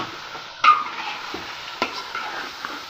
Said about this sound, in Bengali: হলুদের গুঁড়ো দিয়ে আমি কিছুক্ষণ নাড়তে থাকবো